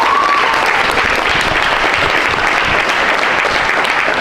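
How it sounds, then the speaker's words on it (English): A crowd at a senior night basketball event applauds steadily and loudly, with cheering mixed in, the clapping lasting without a break. "Y'all gotta clap that up, man."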